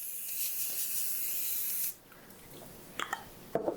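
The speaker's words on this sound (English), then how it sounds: "give it a good spray down with some Pam cooking spray" A steady hissing spray from a can of Pam cooking spray for about two seconds, then it stops, followed by a few small clicks and taps.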